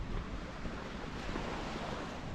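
Continuous surf rolling onto the sand at Palmanova beach in Mallorca, a dense steady roar mixed with wind noise on the mic, no talking.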